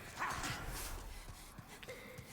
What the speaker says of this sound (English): So here there's gonna be dogs.